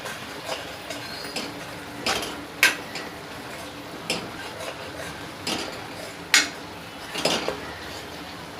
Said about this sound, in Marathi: आता आपण या सर्व मसाल्यांना व्यवस्थित मिक्स करून घेऊया।